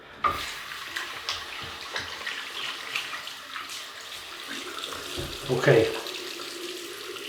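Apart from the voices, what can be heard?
tap water running to wet shaving brush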